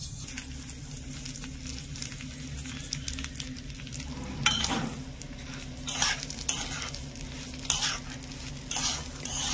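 Gobindobhog rice fries in ghee over a low flame in a pan, with a steady soft sizzle under repeated scraping, stirring strokes from a spoon close by.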